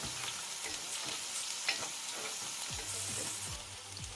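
Shallots fry in a pan for Tuscan chicken, a steady close sizzle with occasional scrapes of a stirring utensil, no voices.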